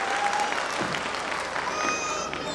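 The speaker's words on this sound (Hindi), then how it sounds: "एक बार पूरा सदन तालियों का महोत्सव करते इस श्रावस्ती महोत्सव में।" Audience applause at the Shravasti Mahotsav festival on an evening of musical yoga, a steady dense wash of clapping filling the whole stretch, with faint voices and tonal sounds mixed in.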